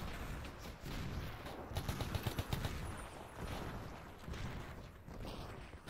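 Gunfire and explosions from the Minecraft Blockfront war mod crackle in quick irregular bursts, with a cluster of sharp shots in the middle, all faint and somewhat distant.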